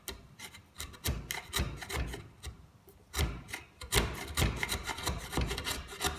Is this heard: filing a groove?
yes